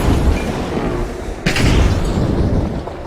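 A deep boom bursts through a Dragon Age game scene, a loud explosion about halfway through that is followed by a rumbling low-end tail over steady game noise.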